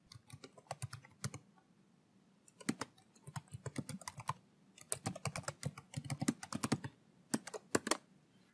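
Login credentials typed on a computer keyboard, quick irregular bursts of crisp key clicks with short pauses, close and fairly quiet.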